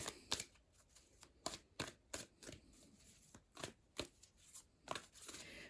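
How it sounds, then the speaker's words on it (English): Large tarot cards are shuffled in a series of crisp riffling bursts, close and quiet, repeating at an uneven rhythm with no talking. "I'm just going to give them one more good shuffle here for you."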